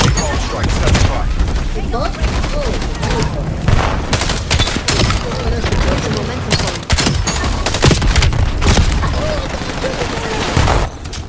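Sustained video game gunfire in a chaotic multiplayer battle, dense bursts of automatic shots and sharp cracks layered over explosions and voiced game announcements, loud and continuous throughout.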